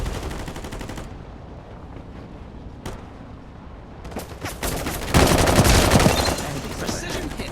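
Shotgun gunfire in a video game, with heavy bursts of rapid shots, quieter stretches between and a loud dense volley near the end, with some speech mixed in.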